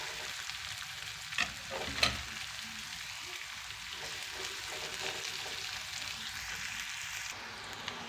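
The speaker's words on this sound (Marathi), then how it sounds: "त्याच्यामध्ये कांदे असे फ्राय करून घेऊया. कांदे चांगले फ्राय व्हायला पाहिजे." Chopped onions frying in a pan for soybean bhaji, a steady close sizzle running throughout, with two brief sharp clinks of a utensil against the pan early on.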